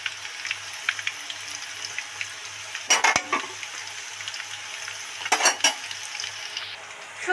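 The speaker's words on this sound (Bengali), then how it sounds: "বড় বড় করে ছাঁকা তেলে ভাজছি তো বন্ধুরা, আলুগুলো দেখতেও সুন্দর হয়েছে।" Large potato pieces deep-fry in hot oil with a dried chili and a bay leaf, giving a steady bubbling sizzle, broken by a couple of louder crackling bursts as the pan is stirred.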